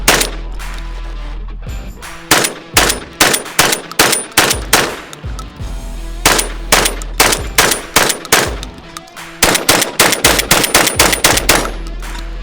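An Orthos Raider S4 semi-automatic shotgun fires loud, sharp reports in rapid bursts and strings of shots with short pauses between, each blast echoing briefly.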